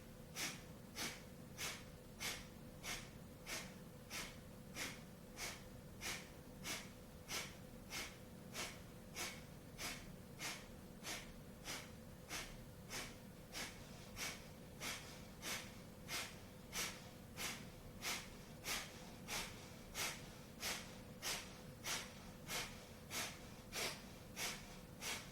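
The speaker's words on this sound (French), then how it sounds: "Et respiration du feu." Rapid, forceful rhythmic breathing during a yoga class, with sharp exhalations repeating steadily at roughly one per second for the whole stretch over a faint background hum; no talking.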